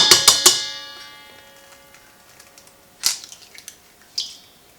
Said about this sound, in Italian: Ok, rompo l'ultimo uovo.